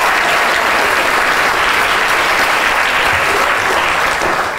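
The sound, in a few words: applause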